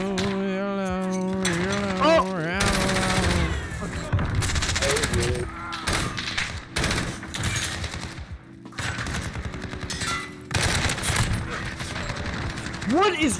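Loud, rapid bursts of automatic gunfire in the Call of Duty Modern Warfare multiplayer game, with a RAM-7 rifle, repeating in dense volleys close up, mixed with speech over the game sound.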